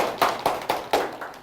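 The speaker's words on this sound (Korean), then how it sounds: "우리 학생들 자신을 위해서도 큰 박수 한번 쳐드리는 걸로. 자, 박수." A small group of students claps at a lecture, about five soft separate claps in a loose rhythm, fairly near and moderately quiet.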